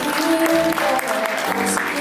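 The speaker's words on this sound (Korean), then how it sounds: "여러분 따뜻한 박수 부탁드립니다" Guests at a wedding ceremony applaud, a dense, continuous clapping that fills the room over soft background music.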